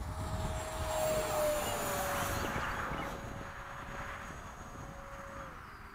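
An FMS 80mm Hawk RC model jet flies a go-around at a flying field, its electric ducted fan giving a steady, fairly loud whine with a sustained tone that swells slightly then slowly fades as it passes.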